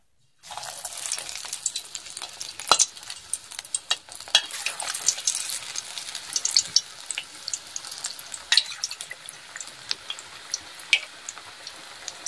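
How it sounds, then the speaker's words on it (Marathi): Batter-coated colocasia leaf fritters frying in hot oil, a steady close sizzle with crackles and pops running throughout, no talking. "आता तेल छान असं गरम झालेलं आहे. आता आपण एक एक तळून घेऊ."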